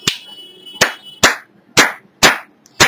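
Six sharp hand claps in a steady rhythm, each about half a second apart, trigger a clap-activated LED color-changing circuit; close, loud and punchy with brief room decay.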